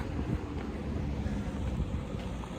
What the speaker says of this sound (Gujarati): અને પવન અત્યારે એટલો છે ને, તે બધું ઉડે